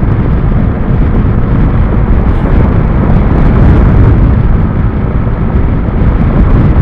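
Loud, continuous wind buffeting and roaring across the microphone, with engine rumble underneath, while riding a Bajaj Dominar 400 motorcycle at speed in fifth gear.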